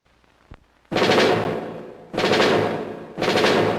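Rapid toy machine-gun fire from a 1964 Johnny 7 OMA toy gun commercial comes in three loud, sustained rattling bursts, preceded by a single sharp click.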